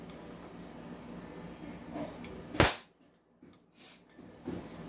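A single sharp report from an upgraded 2011 Hi-Capa airsoft pistol fired during a chronograph velocity test, one loud close crack standing alone over faint background noise.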